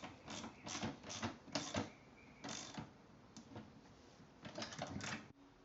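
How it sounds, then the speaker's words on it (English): Ratchet and wrench clicking as bolts are tightened on a plastic kitty litter bucket, with bursts of quick mechanical clicks in several separate runs, fairly close and moderately loud, with no talk. "Now use your wrench and your ratchet to tighten all the bolts."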